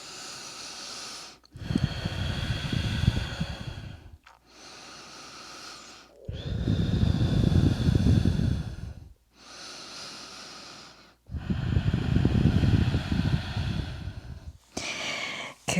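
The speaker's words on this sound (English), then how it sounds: "And breathe here." Slow, deep breaths during a yoga pose: long, breathy inhales and exhales alternate with short pauses between them, close and fairly loud with no talking.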